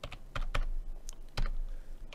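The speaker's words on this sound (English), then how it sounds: "I'm going to be a bit more accurate with my figures by typing in 1 here" Quick clattering keystrokes on a computer keyboard while numbers are entered in Unreal Engine 4, several close, crisp taps in an irregular rhythm with no talking.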